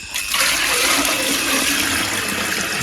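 Water poured from a bucket near an old canal while catching snakehead fish, a steady loud gushing splash that starts abruptly and runs continuously to the end.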